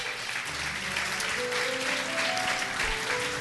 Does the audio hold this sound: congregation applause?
yes